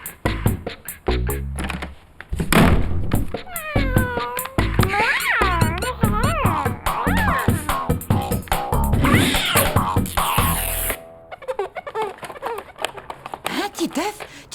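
A cat meows repeatedly in rising and falling cries, close and fairly loud, mixed with cartoon speech and other voices.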